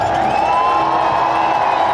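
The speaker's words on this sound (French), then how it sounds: "Voilà, Magnus, la foule l'applaudissait comme s'il avait ou revêtu le maillot jaune ou gagné l'étape" A roadside crowd at a Tour de France stage cheers and applauds a passing rider, a steady dense roar of voices and clapping without a break.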